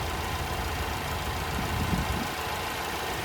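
The 2.3-liter EcoBoost four-cylinder of a 2023 Ford Mustang EcoBoost Premium idles under the open hood with a low, steady rumble. It is quiet and constant, and no one speaks.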